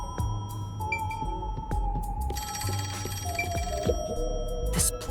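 A telephone rings repeatedly in the video game Master Detective Archives: Rain Code, a steady electronic bell trill in regular bursts over low game music and ambient tones.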